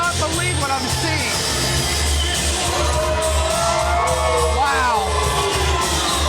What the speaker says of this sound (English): And listen to the River Dirt cheer